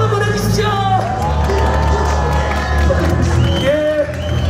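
Crowd at an outdoor candlelight rally cheering and clapping, with shouts and whoops over steady applause while a voice carries through a loudspeaker.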